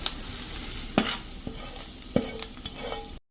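Steady frying sizzle with a few sharp spatters and clinks as hot tempering is poured over crumbled nylon khaman; no voices.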